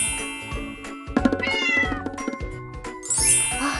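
Several cats at a cat shelter meow loudly and repeatedly at feeding time, their calls overlapping near the listener, with metallic clinks and jingles of bowls in between.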